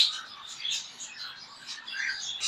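Lovebirds chirp at a pet bird shop in Islamabad, with a steady stream of overlapping high, quick tweets and twitters from several birds close by.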